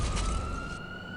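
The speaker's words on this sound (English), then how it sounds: "It seems we're in a fucking ambulance." Ambulance siren in a Five Nights at Freddy's browser fangame, a loud steady wailing tone with hissy noise that drops away midway, leaving the siren tone on its own.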